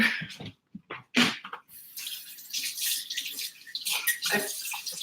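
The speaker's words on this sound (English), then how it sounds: "Now I'm going to wash a jar." Tap water runs steadily into a sink while a glass jar is washed, a continuous splashing rush that starts after a few brief knocks and spurts, close and fairly loud, with no talking over it.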